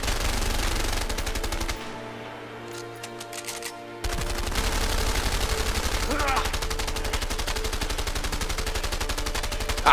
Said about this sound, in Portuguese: A gente já tá meia hora dando tiro um no outro e não morre.